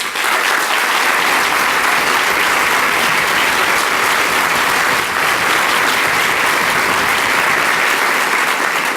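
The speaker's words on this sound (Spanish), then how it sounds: "un esfuerzo puramente local, que hay que aplaudir y que pido que aplaudan" A packed theatre crowd at the reopening of Teatro Villa Mayor in southern Bogotá claps loudly and continuously, a thick, even wall of applause that holds for about nine seconds.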